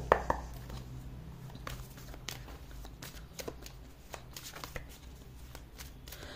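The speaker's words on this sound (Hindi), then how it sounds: "मैं क्या करूँगी कि एक एक कार्ड दोनों के लिए निकाल के काम ख़त्म करूँगी" Tarot cards being handled and drawn from a deck, with soft riffling and shuffling flicks and scattered light taps at an intimate close range, quiet and without speech.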